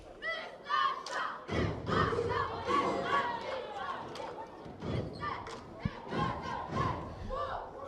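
Cheerleaders chant rhythmic shouted calls in unison at a college men's basketball game in an arena, with thumps and a dull crowd murmur around them.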